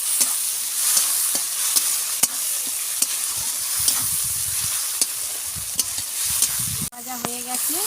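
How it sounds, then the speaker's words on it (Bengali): Tomatoes and salt sizzle steadily in a hot pan as a masala base for a bata fish curry, with a spatula stirring and tapping sharply several times and a brief clatter near the end. "নুন, ভালো করে আমি এটা ভেজে নেব।"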